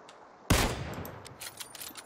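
Gunfire in the battle-royale game PUBG: a sharp, loud shot bursts in after a quiet start, followed by a decaying tail and scattered further cracks of distant firing.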